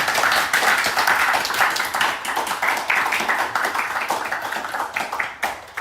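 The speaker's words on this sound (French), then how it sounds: "on peut applaudir Edem" An audience claps for Edem on a French reality show set in the Queen House, a close, dense and fairly loud patter of hands that continues throughout.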